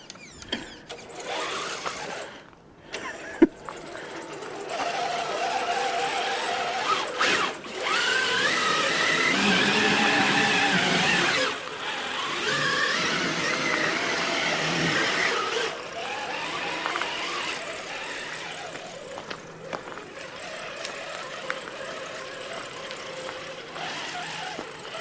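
A Traxxas TRX4 RC truck churning through sloppy mud, its small electric motor whining and rising in bursts with brief pauses, near and moderately loud, with wet slapping and spraying throughout.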